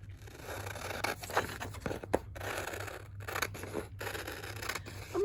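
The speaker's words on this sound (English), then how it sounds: "The first thing I want to do is cut off the border from this." Scissors trimming the border off a sheet of paper for a craft project, close and crisp, several drawn-out snipping and slicing strokes separated by brief pauses, with no voice.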